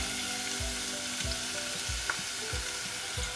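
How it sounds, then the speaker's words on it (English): Onions frying in hot oil, a steady crackling sizzle with repeated low thumps of stirring or tossing, close and continuous with no talk. "So I'm gonna drop these onions in the oil"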